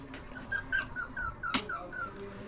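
Small puppy whimpering in a home as it is offered food, a run of thin, high, wavering whines and yelps, close and moderately loud, with no talk over them.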